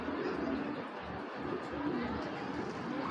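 An almond Giribaz male pigeon of an old Tota line coos softly and steadily for several seconds against a constant, noisy background hum.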